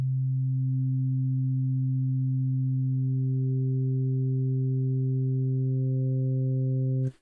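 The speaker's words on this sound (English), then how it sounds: "we could create an organ sound by changing our modulator frequencies and turning up the levels" FM synthesizer organ tone built from a short harmonic series, a steady sustained chord of stacked partials held evenly for about seven seconds with upper harmonics gradually swelling in, then cut off abruptly.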